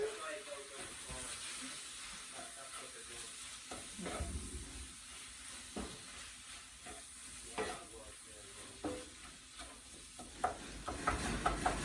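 A saucy bobotie mixture with big mango chunks stirred and broken up in a pan, a constant low sizzle with repeated scraping strokes and occasional knocks, a voice faintly present.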